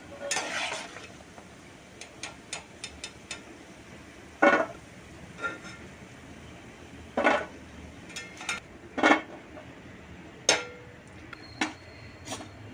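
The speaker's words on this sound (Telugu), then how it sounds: "ఇంక మిగతాయి కూడా ఇలా ఫ్రై చేసుకుందాం" Gulab jamun balls fry in hot oil with a quiet, steady bubbling, broken by about a dozen sharp spoon clinks and taps against the pan, spaced irregularly and close by.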